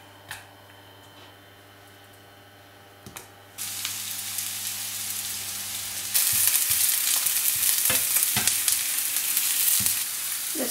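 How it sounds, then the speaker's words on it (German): Onions frying in hot oil in a pan, a steady loud sizzle that starts after a quiet stretch and grows stronger, with occasional stirring clatter. "und lassen die Zwiebeln einfach kurz"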